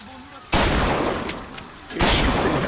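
Two bursts of loud, close gunfire in BioShock Infinite, the first starting about half a second in and lasting over a second, the second following shortly after, with a voice speaking around them.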